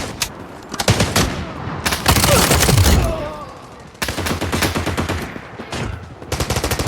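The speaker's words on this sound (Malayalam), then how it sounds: "എവിടുന്നൊക്കെയോ വെടി വരുന്നുണ്ട്." Automatic gunfire rattles in the Delta Force Mobile shooter game, loud, rapid bursts from several weapons broken by brief pauses, close and sharp.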